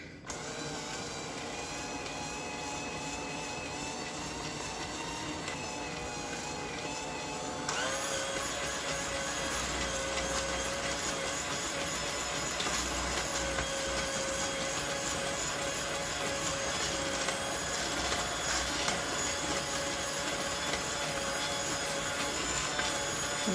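Electric hand mixer running with a single beater through sour cream cookie batter, a steady close whirring drone that steps up louder partway through and keeps going with no talking.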